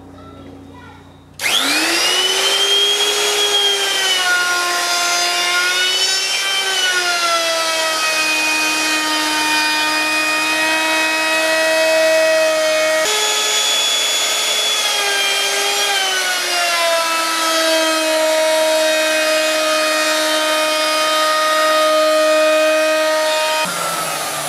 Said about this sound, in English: So that's my router.